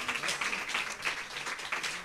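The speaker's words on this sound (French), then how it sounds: "Je pense qu'on peut effectivement les applaudir." A fairly faint, brief burst of audience applause for speakers at an artists-and-researchers meeting, a soft continuous patter of hands heard from a distance.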